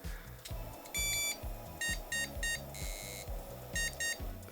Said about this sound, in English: when I started it, it did a sequence of beeps